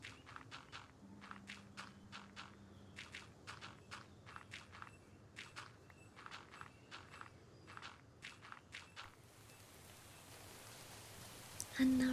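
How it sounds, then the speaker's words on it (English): Rain falling in a video game, a soft hiss that builds toward the end, mixed with regular crunchy footstep-like taps from the game, all quiet and distant. "that's so even listening to the rain in the game"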